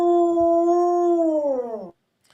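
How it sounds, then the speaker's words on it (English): A dog lets out a single long, loud howl that holds a steady pitch for almost two seconds and then bends downward and cuts off abruptly, ending in near silence. "That's my dog."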